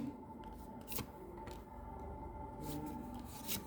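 Tarot cards are drawn and slid from a deck in a quiet room, making soft papery shuffles and a few crisp snaps close by, with no talking.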